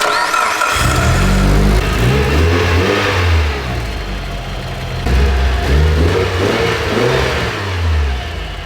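A car engine fires up after a power steering pump swap and revs hard in repeated loud, rising bursts, settling briefly between pulls before climbing again, close and continuous with no talk.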